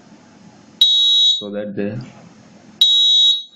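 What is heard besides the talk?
Arduino fire alarm buzzer rising in frequency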